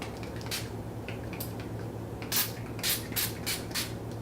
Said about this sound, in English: so lastly I'm going to apply my setting spray.